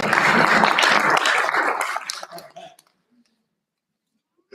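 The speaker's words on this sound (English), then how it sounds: "Let's have another round of applause." Applause from an audience at a school board meeting, a dense patter of clapping that fades out over a few seconds into near silence.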